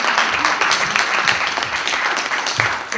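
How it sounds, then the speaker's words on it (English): Conference audience applause, a dense, even roar of many hands clapping at once, loud and sustained for a few seconds with no voices. "let's give a round of applause for National Geographic for that"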